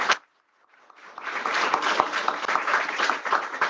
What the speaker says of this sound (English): So they are clapping for the success of all the women